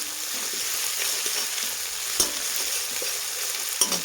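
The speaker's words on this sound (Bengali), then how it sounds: "তারপর দিয়ে দেবো আমি যে আদা বাটা, ভালোভাবে একটু নাড়াচাড়া করে নেব।" Ginger paste fries with spices in a pan, a steady sizzle broken by a few sharp spatula scrapes and knocks while it is stirred, for a jackfruit and meat curry.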